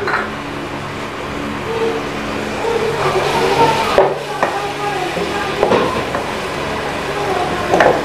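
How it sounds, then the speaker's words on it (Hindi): Chopped onions fry in oil in a kadhai, a continuous sizzle broken by spoon scrapes and clatters against the pan, close up and moderately loud, with no voices. "इसमें अब मैंने 3 से 4 खाने के चम्मच ऑयल ऐड किया है। चॉप प्याज हम इसमें ऐड कर देंगे"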